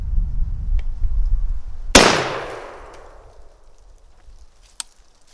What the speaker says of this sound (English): I'm gonna shoot that piece of tile right there in the middle.